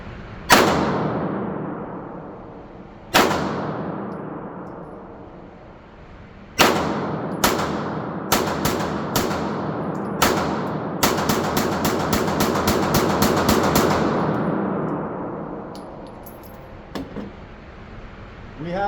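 A Canik TTI pistol fires a string of sharp shots: a few single rounds spaced seconds apart, then a quicker rapid burst of about a dozen with ringing decay, loud and close outdoors.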